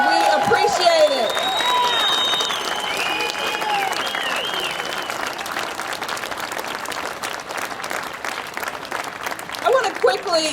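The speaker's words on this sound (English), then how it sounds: "I want to give a big, hearty applause for the individuals who organized this event" Rally crowd gives a long, dense round of applause for event organizers at a Save Michigan's Public Schools gathering, steady and loud throughout, with some voices and cheers mixed in.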